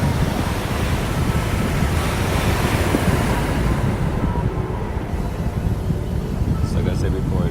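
Ocean waves roll and wash continuously along the shore with heavy wind buffeting the microphone, a loud, steady surf roar that eases slightly midway.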